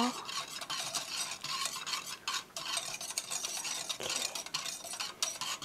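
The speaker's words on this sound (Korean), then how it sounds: "계속 몽글몽글한 게 없을 때까지 이렇게 살살 섞어주세요" A spoon or whisk stirs a chocolate syrup mixture of powder and sugar in a pot, giving continuous close scraping and swishing strokes with a faint sizzle beneath, no one speaking.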